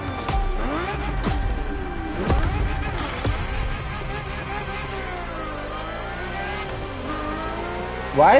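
A Ferrari F50 engine revving in The Crew Motorfest racing game, repeated rising and falling engine sweeps with gear shifts, close and loud, ending in a sudden high-pitched burst.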